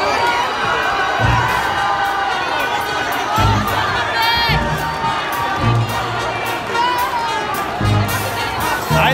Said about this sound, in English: Rousing cheers